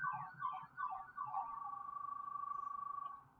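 An emergency vehicle siren near a hospital wails in rising and falling sweeps, then settles into a steady, rapidly pulsing warble. It is moderately loud and sounds close, with a faint background rumble.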